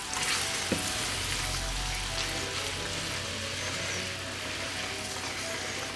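Banana bread French toast sizzles steadily in a hot pan, a continuous close frying crackle with a brief utensil tick early on and no talking.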